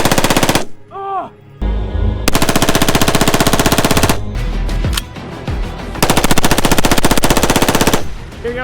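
Q Honey Badger rifle firing long loud bursts of fully automatic fire during a stress test, several sustained strings of rapid shots broken by brief pauses, close and dominant.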